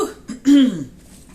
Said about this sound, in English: I've been trying to clear my throat all day